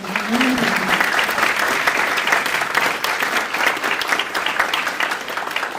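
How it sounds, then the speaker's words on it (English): Audience applause following an evening talk on data and AI, sustained even clapping at a steady level across the whole stretch, with a brief voice at the start. "please join me in giving her another round of applause"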